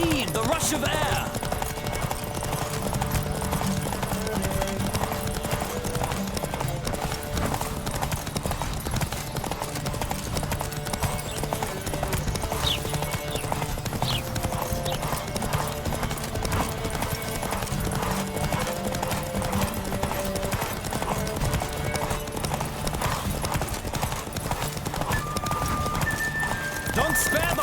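Galloping horse hooves drum continuously through a race in The Witcher 3, with occasional whinnies, backed by game music and intermittent shouted voices.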